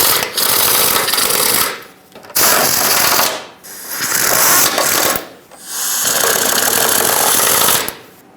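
A hand ratchet snugs the plastic shield bolts on a 2007-2014 Chevrolet Silverado 2500 HD, loud close clicking pawl runs in four long bursts separated by short pauses, no talking.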